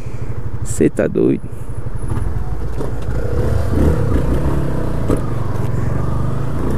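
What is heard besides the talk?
new Yamaha Fazer 250 motorcycle ridden for first kilometre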